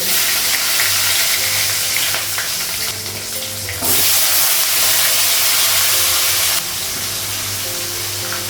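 Whole cumin, nigella seeds, green chillies and dried red chillies fry in hot oil, making a loud, continuous crackling sizzle up close that briefly dips and surges.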